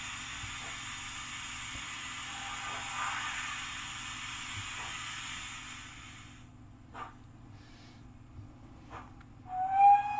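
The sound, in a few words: model trains running on a model railway layout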